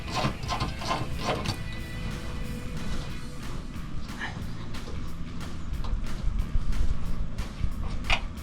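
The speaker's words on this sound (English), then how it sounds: "So now, you get your 10mm socket, and you loosen." A 10mm socket wrench loosens the headlight screws on a 2016-2023 Toyota Tacoma, giving close, quick ratcheting clicks in uneven runs over a busy mechanical background.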